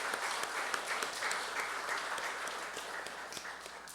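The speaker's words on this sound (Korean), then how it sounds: "귀한 말씀을 주신 참 아버님께 박수를 보냅시다" Audience applause at a blessing ceremony in a temple hall, a dense, steady wash of many hands clapping throughout, fairly even in loudness from start to finish.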